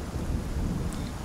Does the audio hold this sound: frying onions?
no